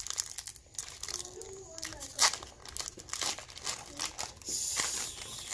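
Foil wrapping of a Pokémon trading card booster pack from a Vivid Voltage collection box being crinkled and torn open, close and busy crackling in bursts and scrunches, with a voice speaking briefly underneath.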